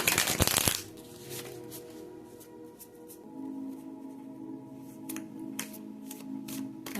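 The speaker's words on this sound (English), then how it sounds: "I think we'll go ahead and throw in some tarot" Tarot cards are shuffled in a brisk riffle-like burst at the start, followed by quieter intermittent card handling and soft taps over a faint background hum.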